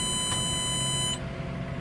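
A JCB Fastrac tractor sounds a high, steady electronic load-warning tone over a low engine rumble, the beep cutting off partway through while the engine continues.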